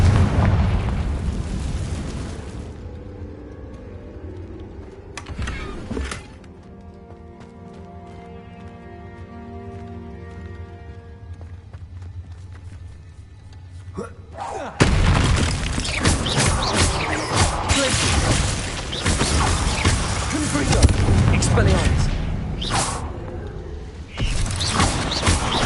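Confringo blasting spell in the Hogwarts Legacy video game, heard as a loud, sudden burst of noise that flares, dies down into a ringing, tonal rumble, then erupts again into a long, dense blast of crackling noise.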